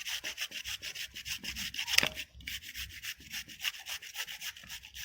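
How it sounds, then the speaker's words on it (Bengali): Kohlrabi being grated by hand for a Gujarati chutney in a home kitchen, a steady run of quick rasping strokes, close and fairly quiet, with no talking. "ওলকপিটা আমি এখন ঘষা দিয়ে ঘষে নিচ্ছি।"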